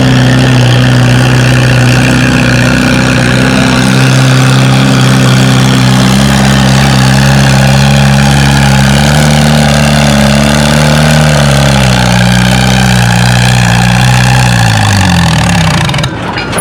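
At a fall tractor pull in Lynden, a pulling tractor pulling a 3,000-pound small sled roars loud and steady, its pitch sagging as the RPM drop until the engine dies abruptly.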